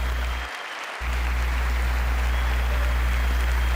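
A dense, steady wash of applause fills a crowded chamber at the State of the Union address, continuous after a brief gap, with a low hum beneath.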